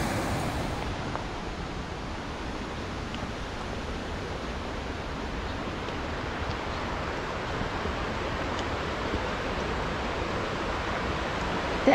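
Pyramid Creek rushing through North Cascades forest at the start of a trail, a steady, dense broadband roar of flowing water with no breaks or voices.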